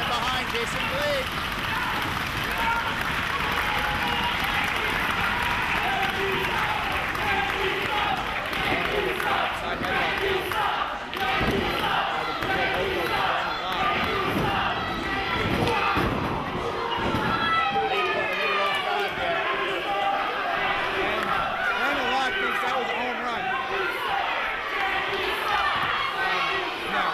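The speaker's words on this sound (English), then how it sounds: "Crowd getting behind Jason Blade." A wrestling crowd roars in support of wrestler Jason Blade, a dense, steady wall of cheering and shouting that holds loud across the whole stretch, with scattered louder yells rising out of the noise.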